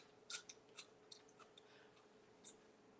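Crisp bites into raw chayote squash, a few sharp crunches spread across the moment, close and fairly quiet with no talking.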